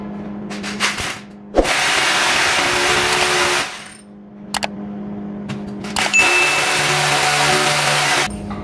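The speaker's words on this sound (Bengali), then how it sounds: "এখন ডিল করব। এখানে রয়্যাল ফ্ল্যাগের জন্য আমি 6 নাম্বার বিট ইউজ করব।" A power drill with a number 6 bit boring holes for wall plugs to mount an LED panel light, loud whining bursts of several seconds each, separated by short pauses and clicks, close up.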